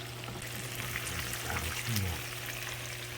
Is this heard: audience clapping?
no